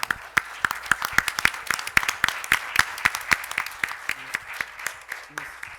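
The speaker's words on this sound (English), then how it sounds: "A round of applause for our dispatchers that are sitting quietly" Scattered applause for emergency dispatchers at a City of Calexico special council meeting, a small group clapping in distinct, uneven hand claps that stay close and fairly loud throughout.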